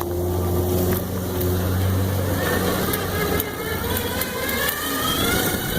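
A CYC X1 Pro e-bike motor pulls up a hill at 52 volts in throttle-only mode, power level 5 and first gear, short of full throttle, giving a steady, loud mid-pitched whine over constant wind rumble.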